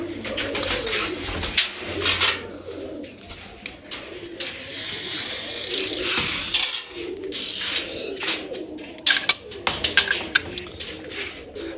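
Several pigeons coo in low, throaty bursts over a busy background with flutters and scattered clicks, fairly close and continuous.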